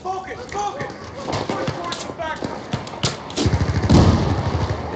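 Gunfire in the video game Battlefield 4 comes as sharp, irregular shots and thuds, heard under loud, excited talk from the players.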